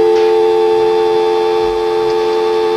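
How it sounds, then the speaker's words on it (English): A steady, continuous telephone dial tone hums loudly and evenly throughout, with faint clicks and room noise underneath. "let me hear the dial tone."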